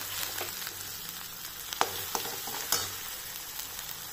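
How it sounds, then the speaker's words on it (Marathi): Onion and tomato paste fries in oil for kaju paneer masala, a soft steady sizzle with a few sharp clicks and scrapes of a spoon against the pan, close and without speech. "बघा इथे कांद्याची पेस्ट आणि टोमॅटोची पेस्ट तळून झालेली आहे। तेल सुटायला लागलेलं आहे।"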